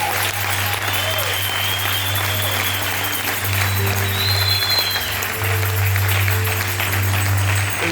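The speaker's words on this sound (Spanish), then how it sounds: "Den un aplauso al Señor." Congregation applauding during a Sunday church service, sustained clapping across the room over a steady low organ or keyboard drone, with faint tones drifting above.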